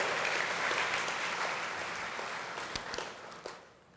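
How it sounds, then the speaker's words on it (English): A civic event audience claps in a broad, steady wash of applause that holds strong before gradually thinning out, with a few scattered final claps near the end. "Let's give them a great warm round of applause and thank them for their support."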